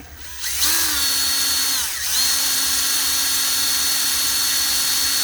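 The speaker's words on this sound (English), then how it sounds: "So take your sandpaper. This is 220. That's pretty good grit for what I'm doing." A spinning power tool with 220-grit sandpaper sands the body of a 1:25 scale MPC 1969 Dodge Charger model kit. It makes a loud, steady high motor whine that dips briefly once and then keeps running, with no talking.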